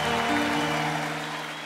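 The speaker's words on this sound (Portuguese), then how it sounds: "eu desde já peço um imenso aplauso para a organização" Applause at a live Portuguese music awards show, a dense wash of clapping from a large audience, loud and sustained before easing slightly.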